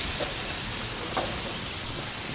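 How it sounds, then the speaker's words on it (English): Garlic sizzles steadily in a pan on a Weber Q barbecue while making jambalaya, a constant hissing fry with a faint stir or two and no talking. "Brush in the garlic, stir and sizzle for about a minute."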